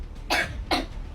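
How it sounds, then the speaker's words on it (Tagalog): A person gives two short, close coughs about half a second apart against a low background hum. "tapos umubo ka"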